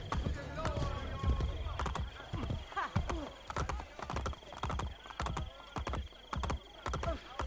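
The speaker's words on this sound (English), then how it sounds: "So we're actually going to grab one of the horses from the stables." Horse hooves clip-clop steadily in the Assassin's Creed Brotherhood video game, a loud, regular galloping rhythm running throughout, with a brief neigh near the start.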